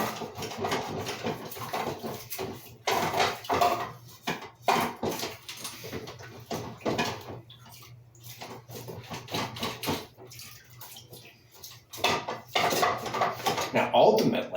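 Dishes and a child's plastic sippy cup are washed in a bathroom, with clattering pots, clinking cutlery and splashing water running steadily up close, sometimes under a voice.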